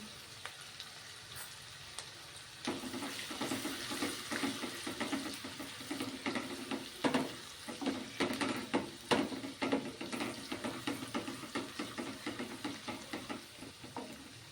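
Asafoetida hits hot oil and starts frying, a quiet hiss that swells into a sizzle with rapid irregular crackles and pops, close and continuous, with no voices.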